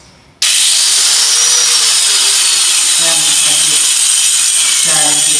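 A power tool grinds or sands coconut shell husk fibres, starting abruptly and running loud and continuous at close range, with a faint voice briefly audible beneath the harsh whir.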